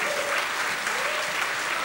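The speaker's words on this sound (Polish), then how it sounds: "Duże brawa." Steady, full applause from a gala audience greeting guests on stage, a dense continuous roar of clapping at close range, with a faint voice briefly under it.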